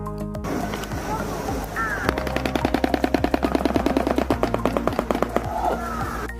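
A shoebill clattering its bill, a loud rapid run of sharp wooden knocks like machine-gun fire that builds and holds for several seconds at close range, with background noise before it starts.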